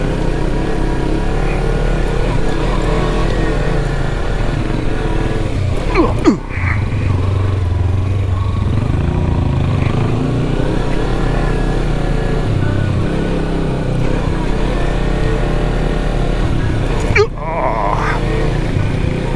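Kawasaki Versys 300 motorcycle ridden off road, engine droning loudly and continuously with shifting revs and a couple of brief dips, heavy wind rumble throughout.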